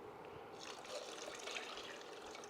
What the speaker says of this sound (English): I'm just going to rinse my jug out